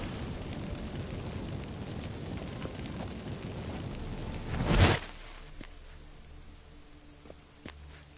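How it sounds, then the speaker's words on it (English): A magic incense burst in The Witcher 3 flares as a single loud whooshing blast around the middle, after a dense rumbling bed of noise, then the scene falls to a quieter hum with a few small knocks. "Get ready for some magic fireworks."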